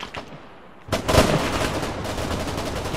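Rocket launcher fire at a tank in a West German airborne campaign video game: a loud blast at about one second, followed by sustained, dense rumbling explosion noise and debris that carries on to the end.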